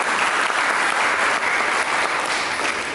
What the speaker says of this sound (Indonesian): Kita sambut dengan memberi tepuk tangan bagi Tuhan